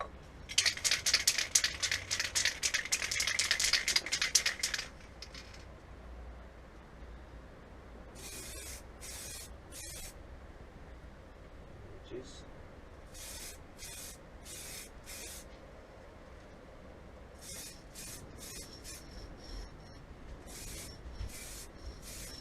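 Spray can laying a grey coat of paint on a Tamiya RC truck, one steady hiss of about five seconds up close, then short quiet bursts and rattles scattered across the rest.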